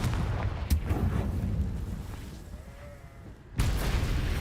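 A Confringo fire spell blasts in Hogwarts Legacy, a loud booming burst at the start followed by a rumbling low tail that fades, then a second heavy impact near the end.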